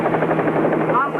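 A helicopter heard from inside the cabin, its rotor giving a loud, steady throbbing whir, with a voice speaking over it.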